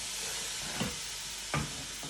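A soft, steady sizzle of shakshouka frying in a hot pan, with a couple of brief scraping stirs against the pan.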